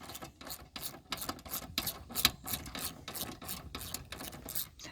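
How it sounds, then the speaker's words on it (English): A ratchet wrench works on the seat bolts of a Dodge Ram 1500, giving a steady run of close, evenly spaced clicking strokes with no pauses. "upgraded now to a ratchet"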